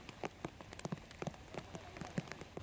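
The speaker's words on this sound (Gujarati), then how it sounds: "મધ્ય ગુજરાતમાં આણંદ સહિત વડોદરામાં પણ જે વરસાદ વરસી રહ્યો છે" Heavy monsoon rain in Vadodara patters steadily on a surface, with scattered distinct drops standing out over a soft, continuous wash; fairly quiet and with no voices.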